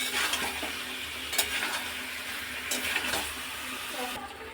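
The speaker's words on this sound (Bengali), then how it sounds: "ভেজে রাখা আলুগুলো দিয়ে দিয়েছি, মশলার সাথে ভালো মতন এটা কষিয়ে নিয়েছি।" Fried potatoes are stirred with spice masala in a pan, giving a steady soft sizzle and scraping stir under a faint background hum, with no voices.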